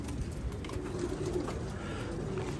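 Homing pigeons cooing on a rooftop, a steady low murmur of several birds close by with faint background noise.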